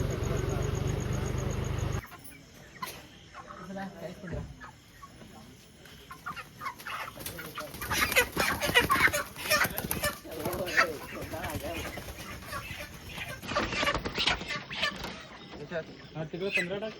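Chickens cluck and squawk at a poultry farm during night loading into transport, a busy, dense flock clamor with rustling and handling noise close by, rising and falling over time.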